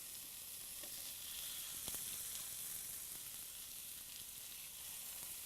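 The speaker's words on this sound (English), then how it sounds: "we're going to put them one at a time in the pan" Turkey patties sizzle as they brown in a pan on the stovetop, giving a steady, gentle hiss of frying with a few faint crackles and no talking.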